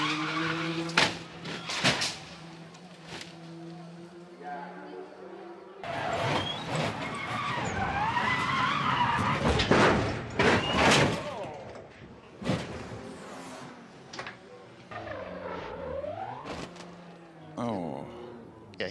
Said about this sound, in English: he avoided it there and then accelerated back into the tires